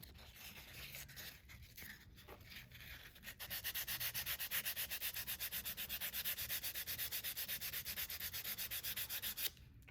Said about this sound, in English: So let's just give this guy a sanding.